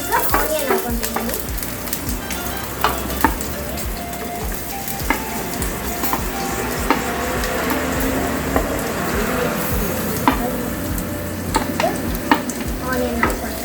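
Onions and green chillies fry in a pan on a gas stove for fish green masala, giving a steady busy sizzle with scattered stirring scrapes and clinks, close and continuous.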